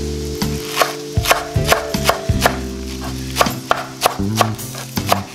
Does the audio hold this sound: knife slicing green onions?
yes